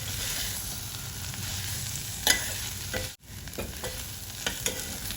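Soya biryani masala with coriander and mint being stirred in a pan, a constant loud sizzle with occasional scraping clicks from the spoon and no talking.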